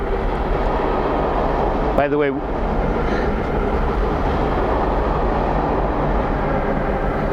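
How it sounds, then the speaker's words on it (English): A train rumbles steadily along a railroad line beside a church in Istanbul, a loud, continuous noise that fills the whole stretch while someone speaks briefly over it. "That's the railroad line. All railroad traffic from this city goes on that line."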